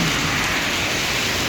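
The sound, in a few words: heavy monsoon rain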